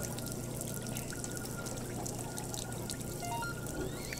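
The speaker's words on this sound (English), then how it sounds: "Gotta wash my hands." Water running from a sink in the Job Simulator video game, a soft continuous pouring trickle at low level with faint clinks and chimes over it.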